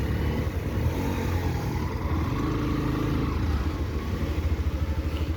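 Motorcycle and car engines idle and rumble steadily at close range in a road traffic jam, a continuous low mechanical drone with no voices.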